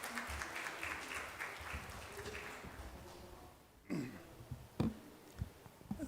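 Audience clapping for a speaker at an evening event on gender equality and energy, a steady moderate patter that fades out, followed by a few scattered sounds and faint movement.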